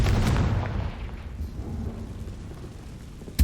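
A Confringo fire spell explodes in the Hogwarts Legacy video game: a loud, dense blast that fades into a long rumbling tail lasting several seconds, with no voices.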